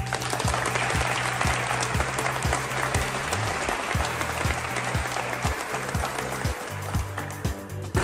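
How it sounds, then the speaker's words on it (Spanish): Dense, sustained applause from an audience at a social security event in Guatemala, with many hands clapping steadily for several seconds and a low, rhythmic background beat underneath. "Un aplauso para todos nosotros"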